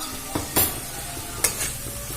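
Rohu fish kalia with yogurt is stirred and fried in a pan: a couple of distinct scraping stir strokes cut through a continuous close sizzle, with no talking.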